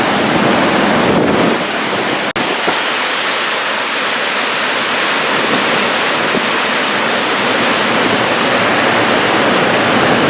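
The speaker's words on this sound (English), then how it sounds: "just listen to the ship sail through the water for a little bit." Cruise ship Allure of the Seas sailing at sea, with a steady, loud rushing wash of water against the hull and wind buffeting alone throughout, no voices.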